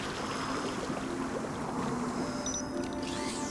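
Water sprays from a tank in the video game Beyond a Steel Sky, a steady rushing hiss of liquid that holds an even level throughout, with a faint whooshing sweep near the end.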